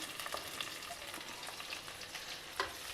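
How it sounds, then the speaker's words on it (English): Sliced onion, chopped carrot, beans and capsicum stir fry together in a pan, giving a faint continuous sizzle broken by light scraping stirs, close and alone with no talk. "Now we will stir fry all these together."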